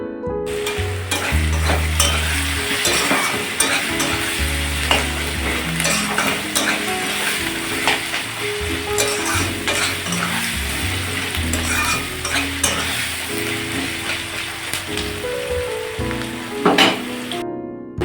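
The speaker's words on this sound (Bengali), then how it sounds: "দেখো পেঁয়াজটা লাল করে ভেজে নেবো জিরে ফোড়ন দিয়ে পেঁয়াজ দিয়ে দিয়েছি লাল করে ভাজা" Onion frying with cumin seeds in a hot pan, a loud, steady close sizzle lasting throughout, broken by frequent scraping stirs of a spatula against the pan.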